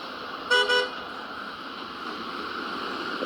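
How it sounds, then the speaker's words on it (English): A short double car horn honk, moderately loud, over steady traffic noise. "The car just got honked at"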